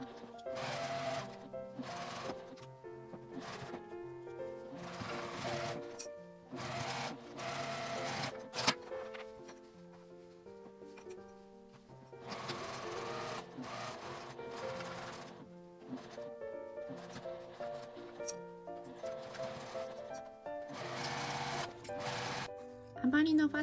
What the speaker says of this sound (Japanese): 両端を1センチの縫い代で縫います。